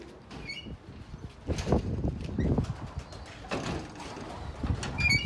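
Pigeons cooing in a loft, with soft repeated coos and low rustling spread through the clip, moderately near and without talk.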